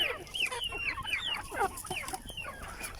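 Heritage chickens cluck over a new feed mix: a busy flock of short, rising clucks and squawks that overlap at close range in a quick, irregular patter.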